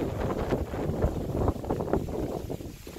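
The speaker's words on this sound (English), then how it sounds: "Windy day, actually." Wind gusts through a popcorn field in late July, rumbling steadily against the microphone with rustling leaves in a continuous, fairly loud wash.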